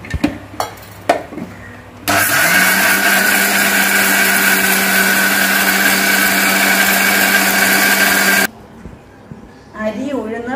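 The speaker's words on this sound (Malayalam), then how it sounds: "മുളകുപൊടി ഉപ്പ് വെളിച്ചെണ്ണ നല്ലെണ്ണയുടെ മിക്സിംഗ് ആണ് പിന്നെ ചെറിയ ഉള്ളി കായപ്പൊടി കറിവേപ്പില ഇത്രയും മിക്സിംഗ് ഞങ്ങൾ അരച്ചെടുക്കുകയാണ്" An electric mixer grinder whirs loudly and steadily for about six seconds while blending chili powder, salt, coconut and sesame oils, shallots, asafoetida and curry leaves, with clattering before and a voice after.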